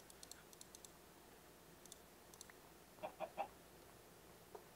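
A Minecraft chicken gives a few soft, faint clucks near the end, with scattered quiet clicks earlier against a low hiss.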